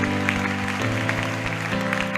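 A congregation at a teen camp session bursts into dense, sustained applause over steady held keyboard chords that shift pitch twice, the clapping loud and continuous throughout.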